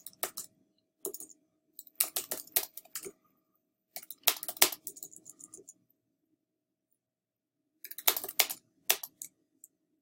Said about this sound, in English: all I have to do is type in my choices